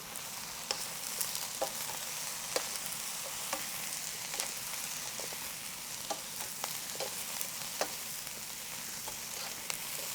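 Vegetables stir-fry and sizzle in a pan, a continuous close hiss with scattered sharp crackles and pops throughout.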